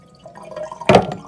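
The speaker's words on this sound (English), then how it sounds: "So I'm going to dump a little bit of water out." Water is briefly poured out with a short splashy gush and a few drips after, close by and fairly loud.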